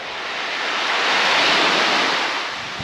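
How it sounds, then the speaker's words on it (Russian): Sea waves breaking on the Crimean coast near Orjonikidze, a steady broadband surf roar that swells to a peak midway and eases off again, with some wind noise and no voices. "Немного вам шума моря, что вспомнили лето."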